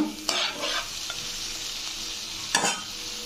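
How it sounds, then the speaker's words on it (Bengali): Spiced masala with turmeric being stirred and fried in a pan, a steady close sizzle with two sharp scraping stirs of the spoon against the metal. "দিয়ে দেবো হলুদ, এবার মশলাটা ভালো করে কষিয়ে নেব।"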